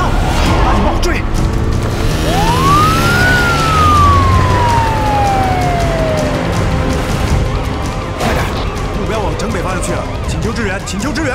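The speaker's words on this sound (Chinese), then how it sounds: "拉警报，追！" A police car siren starts and winds up into one long rising-then-falling wail, loud and near, over constant traffic and vehicle noise, with a few harsh mechanical bursts near the end.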